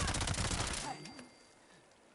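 A fast burst of SMG fire in Fallout 76, loud rapid shots for under a second that cut off and leave a faint fading tail and quiet background.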